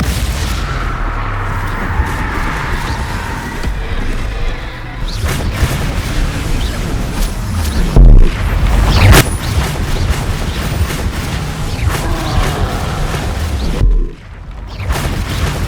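Bombarda exploding spells in the Hogwarts Legacy video game make deep booming blasts over a rumbling combat background, with two sharp, heavy impacts close together midway.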